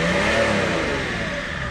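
A BMW 525 TDS diesel engine revs hard through its exhaust, a loud close continuous roar whose pitch rises and then eases slightly, with no voices over it.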